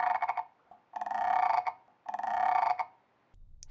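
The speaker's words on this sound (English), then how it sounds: "Frog. The frog says," Three repeated frog croaks, each a sustained raspy call of about half a second to three-quarters of a second, evenly spaced and loud, with no talking.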